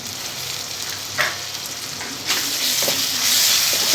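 Curry leaves hit hot oil in a pan for a Telugu chana dal and onion curry, giving a loud, close, continuous sizzle and crackle that swells louder after a couple of seconds as they fry.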